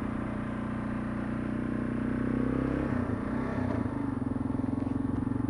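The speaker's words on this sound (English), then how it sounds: "Lovely thing about a motorcycle. Just make a quick U-ey." A KLR 650 motorcycle engine runs steadily at low revs during a quick U-turn on a North Carolina mountain road, with a slight dip and uneven throttle mid-turn before settling back to a steady drone.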